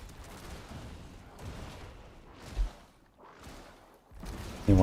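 Profane Sentinel summons shoot in Diablo 4, a muffled rumbling barrage that rises and falls in several waves, ending in a louder burst.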